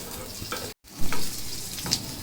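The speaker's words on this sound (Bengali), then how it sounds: "এখন পেঁয়াজ, আদা, রসুন কিছুক্ষণ একটু 2-3 মিনিট ভেজে নিব।" Onion, ginger and garlic sizzle in hot oil in a pan for pangas fish paturi, a close, steady frying hiss with a brief break and a few stirring scrapes.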